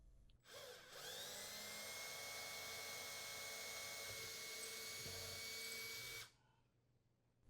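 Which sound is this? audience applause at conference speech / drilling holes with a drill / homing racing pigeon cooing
drilling holes with a drill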